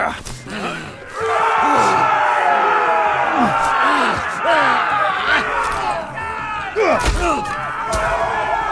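Loud, continuous arena crowd in a Game of Thrones video game, roaring and shouting without a break throughout.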